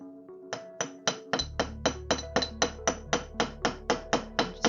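Steady hammer blows flattening wire on a flat surface while making a wire-wrapped pendant, sharp close metallic taps in an even rhythm, about fifteen strikes with a low hum underneath.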